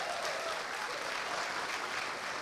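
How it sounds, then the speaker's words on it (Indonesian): An audience at a stand-up comedy show claps in steady, full applause that holds evenly throughout, heard from within the room. "Tepuk tangan dulu dong."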